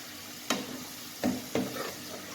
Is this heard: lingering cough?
no